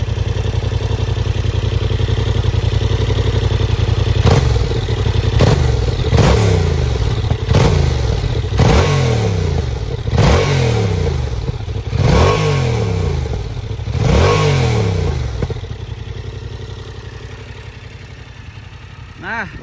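A Yamaha MT-07 motorcycle engine idles with a throaty, even rumble, then is blipped through a series of about seven sharp revs that rise and fall in quick succession before settling back to idle.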